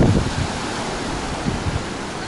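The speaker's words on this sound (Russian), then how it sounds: "Там риф и волна разбивается, а сюда уже слабая такая." Ocean surf breaking on a reef off a Bali beach, a steady broad roar of churning water with wind buffeting the microphone, continuous and close.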